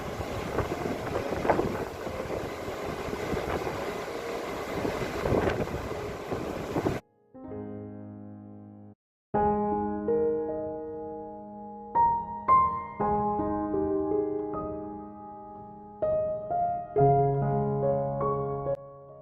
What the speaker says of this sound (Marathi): बेभान वारा सुटलाय आणि मस्त असा लाटांचा आवाज येतोय